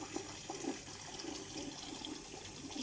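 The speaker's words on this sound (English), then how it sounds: "The PSW cleans the dentures and rinses them thoroughly." Dentures rinsed thoroughly under running water in a wash basin lined with a towel, a steady close rush of flowing water filling the whole stretch without pause.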